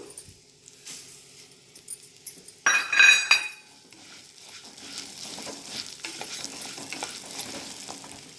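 Coriander seeds roast in a pan for sambar powder, starting quiet with soft clinks and a few scrapes, then a sharp burst of scraping and metallic clatter before a low, steady crackle takes over.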